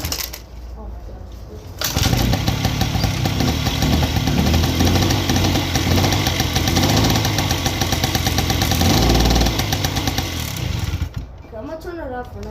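A Honda Spree moped engine starts from cold and settles into a loud, steady idle that runs for about nine seconds. People talk briefly before it starts and again after it is shut off.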